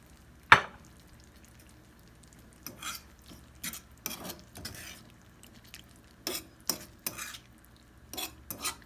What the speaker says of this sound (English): I am going to let it cook a little bit with the Prego sauce and the onion.